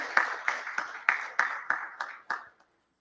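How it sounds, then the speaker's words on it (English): A small congregation at a Sunday satsang claps briefly, a handful of distinct, fairly close claps in a loose rhythm that fade out after about two and a half seconds. "we need to give them a big round of applause"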